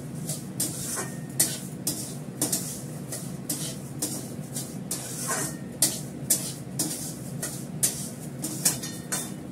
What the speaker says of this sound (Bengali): দেখো আমি ডালটাকে ভালো করে লাল করে ভেজে নিয়েছি।